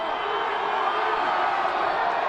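Hundreds of fans outside Schembechler Hall cheering Michigan's champions, a dense, sustained crowd roar with whoops and shouting voices blended together at a steady loud level.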